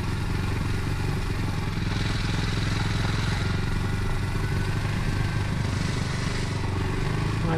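A Kawasaki W230 motorcycle engine runs steadily and close by while riding off-road, with a rough, clattering mid-range drone that barely changes throughout.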